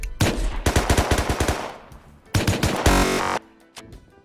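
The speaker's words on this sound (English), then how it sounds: "I'm getting shot at. By the worst silencer player ever." Bursts of suppressed gunfire in the survival game Rust, a rapid rattling volley followed by a second short burst and scattered single shots, fairly close and loud with no talk.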